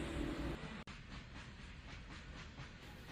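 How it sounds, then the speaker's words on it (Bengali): Cartoon train sound effect of a train pulling into a village-line station, a steady rumbling hiss with faint rhythmic clatter running throughout, broken by one sharp dropout near the start. "ঠিক 7:30 নাগাদ আমার ট্রেনটা স্টেশনে ঢুকলো"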